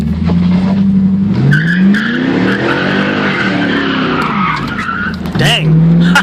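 A 2000 Pontiac Trans Am driven hard, its tires skidding and squealing loudly and up close across several seconds, with engine pitch sweeping up and down beneath the screech.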